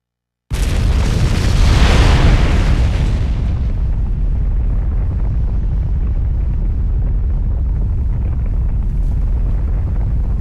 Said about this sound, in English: you wouldn't know what caused that explosion